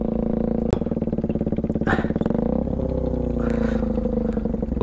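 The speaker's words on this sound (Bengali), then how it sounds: "তুমি তো শিখে গেলা বাইক চালানো" A motorcycle idles and revs nearby with a steady, rumbling engine tone and a click partway through, as a learner rides it by a beach.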